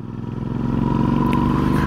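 A Royal Enfield motorcycle engine thumps with a steady low pulsing beat, building slightly in loudness then holding, close and strong with no talking.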